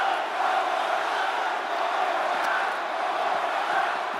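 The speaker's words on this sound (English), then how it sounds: "This capacity crowd is really willing these competitors on." Capacity arena crowd in the WWE 2K25 wrestling video game, a steady loud roar of cheering voices that holds evenly throughout with no commentary over it.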